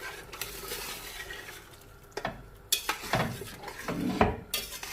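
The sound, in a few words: stirring lentils into cooked mutton in a pot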